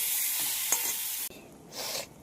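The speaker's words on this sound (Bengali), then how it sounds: "আলুর মধ্যে আদা জিরা বাটা দিয়ে ভালো করে কষিয়ে দিচ্ছি" Potatoes sautéing with ginger-cumin paste in a pan give a steady close sizzle with scraping stir strokes, a brief cut-off near the middle, then sizzling again with a louder hissing swell.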